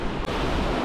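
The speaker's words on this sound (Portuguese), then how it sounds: "o mar aqui no canto direito ainda não tá dando muita trégua, né? Tá batendo bastante." Rough sea waves crash against the shore at a beach in Arraial do Cabo, Brazil, a loud, steady roar of surf close by with wind noise and no speech.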